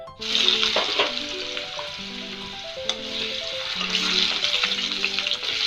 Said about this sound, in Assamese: ভেন্দিখিনি এনেদৰে অলপ দেৰি ফ্ৰাই হ'বলৈ দিম